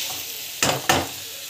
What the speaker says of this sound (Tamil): இதுவும் வந்து நல்லா வதங்கட்டும்.